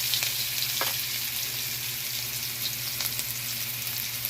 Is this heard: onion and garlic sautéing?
yes